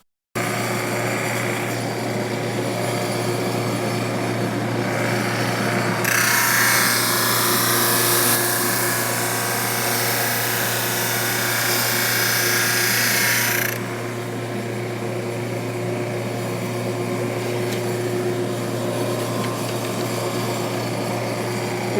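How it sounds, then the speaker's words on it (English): A drum sander works segmented bowl pieces with a constant motor hum and whine, and a louder, brighter rasping surge for several seconds mid-clip as a piece passes through before dropping back to idle. "You can see just one pass through the drum sander, cleaned that side up pretty well."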